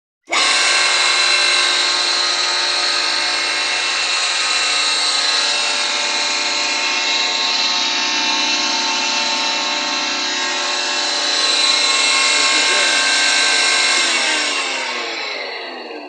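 An electric grain grinder starts at the press of its button and runs steadily, a loud, close, continuous motor whine and grinding roar that holds for about fifteen seconds and eases off slightly near the end.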